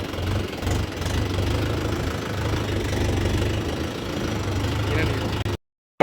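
A tractor engine runs steadily while being driven out for a load of firewood, its low, knocking diesel drone continuous and close until it cuts out abruptly near the end; voices talk over it.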